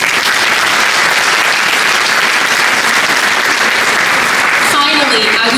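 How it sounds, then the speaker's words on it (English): Loud, dense applause from the audience at a community evening event hosted by an Afghan associations network, sustained steadily for several seconds before thinning out at the very end. "Can we please give a round of applause?"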